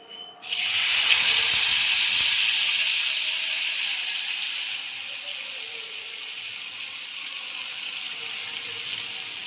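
A paste of tomato, ginger, cumin and coriander hits a hot pan, starting with a sudden loud sizzle that settles into a steady hiss and slowly fades, close and alone.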